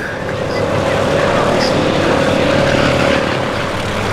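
A Merlin-engined Mustang fighter passes at an air show, its propeller engine droning steadily and swelling slightly as it goes by at moderate distance.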